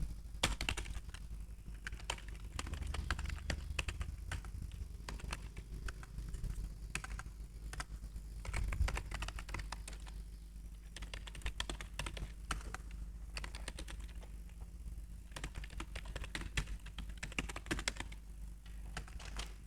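Typing on a computer keyboard goes on for about twenty seconds, a quiet, steady patter of key clicks with small pauses and no talking.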